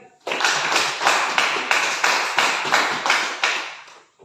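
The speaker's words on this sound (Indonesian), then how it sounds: "Berikan aplaus dulu sekali lagi" Classroom applause from a group of students, a burst of hand clapping in regular rhythmic waves that lasts about four seconds before cutting off.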